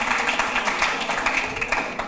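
Studio audience applause on a Hindi TV astrology talk show, a dense patter of clapping sustained throughout at moderate loudness with no voices.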